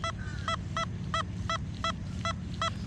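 A Nokta Simplex Lite metal detector in field mode gives a squeaky duck-like tone, a steady series of eight short, bright squeaks at even intervals over a low background hum.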